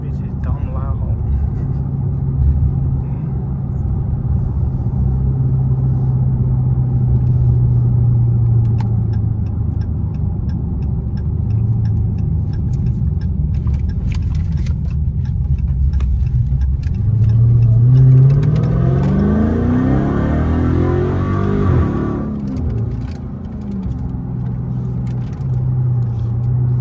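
A 2023 Dodge Charger Hellcat with a mid muffler delete exhaust rumbles loudly nearby, holding a deep steady drone before a revving sweep rises and then falls away.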